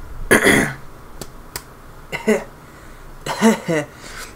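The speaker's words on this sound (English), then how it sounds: "Sorry, it went down the wrong throat." Several harsh, throaty coughs after a drink went down the wrong way, in separate bursts spaced over a few seconds, close to the mic, with short quiet gaps and small clicks between them.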